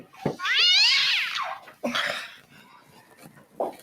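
A house cat, one of four living in a home, lets out a long, rising and falling meow up close, followed by a shorter second cry and a brief chirp at the end.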